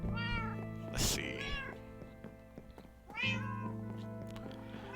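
Several Minecraft cats kept in a player's base, meowing close by in a handful of distinct rising calls, some overlapping, over a steady low background tone.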